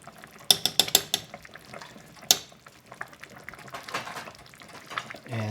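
A spoon stirs mushroom seasoning into a pot of vegan Korean-style spicy silken tofu soup (sundubu jjigae), with a few sharp clinks against the pot early on, then softer scraping and swirling, close and fairly quiet.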